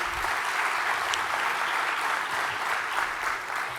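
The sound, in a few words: audience applause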